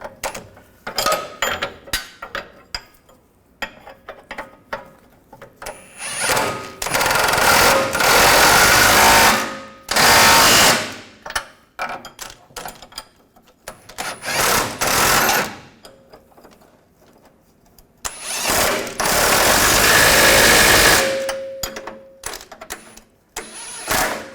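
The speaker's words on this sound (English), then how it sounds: "Now with a wrench on the other side, we'll tighten these down." Tightening catalytic converter bolts on a 2007-2014 Chevrolet Silverado 2500 HD gives loud, close bursts of buzzing, rattling wrench noise, several long runs separated by quieter clicks and clanks.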